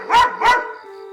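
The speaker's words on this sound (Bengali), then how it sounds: "আজকে কুকুরটি এরকম চিৎকার করছে কেন? মনে হচ্ছে কুকুরটি কোনো কিছুর গন্ধ পাচ্ছে।" A dog gives two sharp, loud barks in quick succession close by, then the sound trails off into a faint lingering tone.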